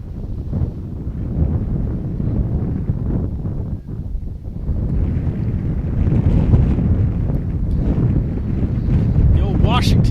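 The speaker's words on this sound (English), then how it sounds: "a gust of wind kicks up once again, and big cloud of dust across the infield." A steady gust of wind roars across an open softball field, buffeting the microphone with loud, continuous rumbling for the whole stretch. A commentator talks underneath it.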